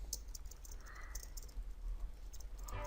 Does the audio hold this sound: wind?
no